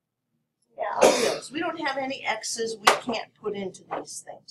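A single sharp sneeze bursts out in a classroom during an algebra lesson, briefly cutting across a teacher's steady talk.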